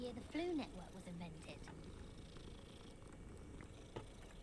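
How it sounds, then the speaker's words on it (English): Cat being petted in the video game Hogwarts Legacy, a faint, low, continuous purr after a brief burst of voice at the start. "Oh yeah, cat! Yes! Gotta pet the kitty."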